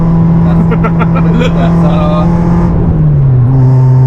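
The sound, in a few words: car engine exhaust with one muffler removed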